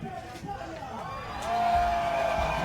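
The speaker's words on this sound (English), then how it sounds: "the crowd make a big noise" Crowd noise at a Battle of the Nations 21 vs 21 fight between Italy and the Czech Republic. The cheering swells louder midway through, under and around a commentator's voice.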